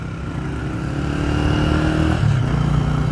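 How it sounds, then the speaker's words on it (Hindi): A motorcycle rides along and turns around on a road, its engine a steady mid-pitched drone that grows louder and slightly revs as it swings round, close by with no talk. "तो यहाँ से जी वापस मोड़ेंगे बाइक"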